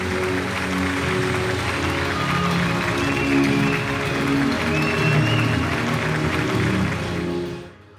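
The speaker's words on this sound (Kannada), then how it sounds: "ಬನ್ನಿ, ಜೋರಾದ ಚಪ್ಪಾಳೆ ಬರಲಿ." Loud, sustained clapping from an awards-ceremony audience at the Chittara Star Awards 2024, holding steady for several seconds before dropping away sharply at the end.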